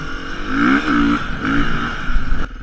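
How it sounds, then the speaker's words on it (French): A 2018 Beta 430 off-road motorcycle engine revs close by, its throttle blips swelling and dropping in a few rough surges, loud and alone before cutting off abruptly. "Première moto que je prends, un 430."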